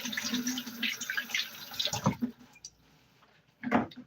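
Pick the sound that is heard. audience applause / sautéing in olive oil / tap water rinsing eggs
tap water rinsing eggs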